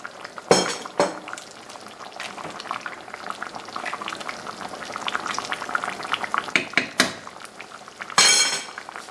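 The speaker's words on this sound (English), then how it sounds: "I'm going to add 1 cup of frozen vegetable medley" Frozen vegetable medley tipped into a simmering paprika chicken stew pot: steady bubbling with a few sharp bursts of clatter and rattle near the start and end.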